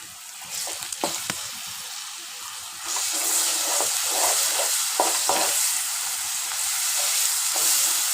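Ginger garlic paste frying in a pan for a chicken curry gives off a steady, bright sizzle, with a few stirring clinks at first, then a louder hiss after about three seconds that continues close up without any voices.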